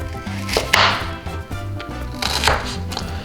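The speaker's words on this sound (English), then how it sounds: "Let's cut the onion." A knife chops an onion on a board with a run of quick close thuds, two small bursts of cutting, over a steady musical background.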